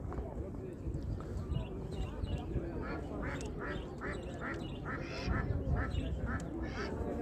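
Ducks at a busy poultry and bird market quack in a quick run of repeated calls, set against constant crowd chatter and market noise.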